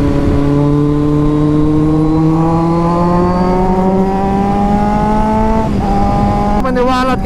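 A Kawasaki Z1000 motorcycle cruising on the NLEX expressway, its engine a loud, steady drone with pitch slowly climbing as it accelerates, then dipping briefly around a gear change and rising again, with strong wind rush throughout.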